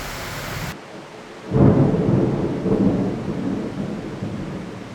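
A thunderclap booms and rumbles heavily over steady falling rain in Thailand, the low roll swelling suddenly after a quieter moment and then lingering as the downpour hisses on.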